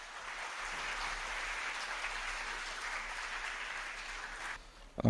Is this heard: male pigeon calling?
no